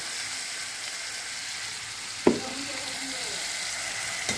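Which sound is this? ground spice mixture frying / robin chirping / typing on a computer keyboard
ground spice mixture frying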